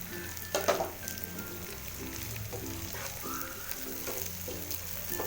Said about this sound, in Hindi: अब हमने 1 मिनट के लिए फ्राई कर लिया है लहसुन, इसमें अब हम डाल देंगे मसाले।